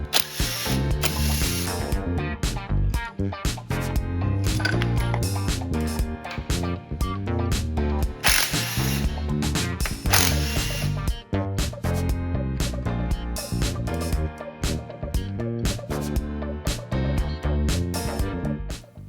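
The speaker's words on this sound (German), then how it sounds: "Da rasselt es ganz schön in dem Motor." Loose parts rattle inside a Honda CB250G motorcycle engine as the engine is turned over. A dense run of sharp metallic clicks and clatters rises and falls in uneven bursts, close and loud, with no talking.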